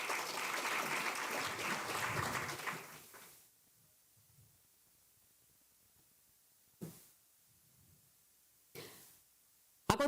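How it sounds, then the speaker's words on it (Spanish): A panel audience applauds a speaker, Ernesto Mejía, at an infrastructure forum, a dense burst of clapping for about three seconds that then stops, followed by quiet room with a couple of brief knocks or shuffles. "Demos un fuerte aplauso al señor Ernesto Mejía"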